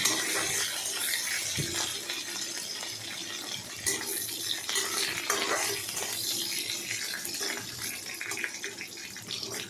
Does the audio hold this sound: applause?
no